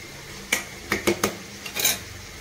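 A metal lid clatters onto a cooking pot, a handful of sharp clinks and knocks in quick succession, close and fairly loud in a quiet kitchen.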